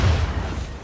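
Gunfire in the video game The Division makes a dense, booming burst of shots that fills the whole moment, loud and close with a heavy low-end rumble.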